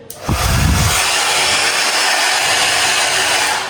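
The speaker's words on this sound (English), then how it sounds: "should we do the power test of the hairdryer?" A hotel-room hairdryer at the VOYA Ringsheim hotel near Europa-Park switches on and runs with a steady, loud, continuous airy roar for several seconds, with a brief low thump at startup.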